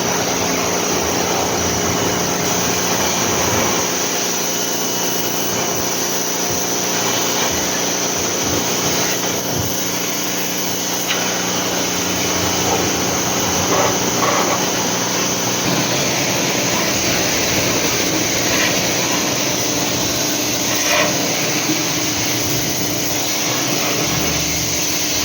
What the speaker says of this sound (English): think we might hit this initially with the water blaster